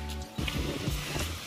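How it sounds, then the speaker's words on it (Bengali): Sea waves wash onto the beach at Digha in a steady, fairly faint rush of surf with a low rumble underneath. There is no talking. "আজ দেখতে পাচ্ছ ঢেউ হচ্ছে"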